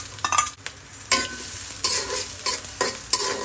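Chopped onions sizzle in hot mustard oil in a kadai, with steady frying hiss broken by several distinct scraping stirs, close and moderately loud, no voices.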